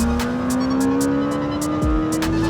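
A Lamborghini Temerario V8 engine, able to rev to 10,000 rpm, holds a high, rising rev, then drops and roars again, with sharp crackling bursts on top.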